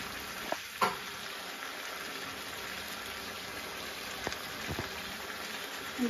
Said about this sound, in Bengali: এটার মধ্যে অল্প আদা বাটা দিলাম